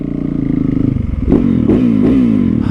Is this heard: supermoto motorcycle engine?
yes